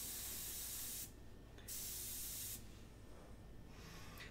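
An airbrush sprays at very low pressure while a pastel portrait is painted, giving a steady close hiss that cuts out briefly twice and resumes, with no talking.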